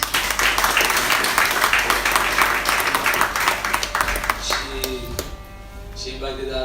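An audience at an orchestra concert in Papua New Guinea claps in dense, sustained applause that thins out toward the end, with scattered voices and faint tonal sounds emerging as it fades.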